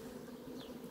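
Honey bees at an open beehive around midday, with many foragers about, giving a steady, soft, continuous buzzing hum that stays even and close throughout.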